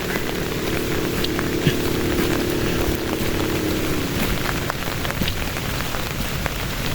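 Heavy rain falling steadily during a typhoon, a dense continuous hiss of drops on surfaces heard close and evenly throughout, with a low hum and no talking.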